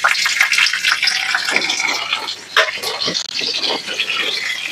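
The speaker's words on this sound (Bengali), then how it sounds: "ফোড়নের জন্য এগুলো একটু ভেজে নিচ্ছি" Black cumin seeds and chopped green chilli sizzle in hot oil for a mustard-flavoured elephant foot yam vegetable dish, a steady bright crackling hiss with small pops, close and continuous throughout.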